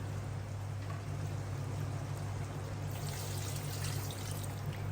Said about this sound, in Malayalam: നമുക്കപ്പോൾ 2-ാം പാല് അതിലേക്ക് ഒഴിക്കാം.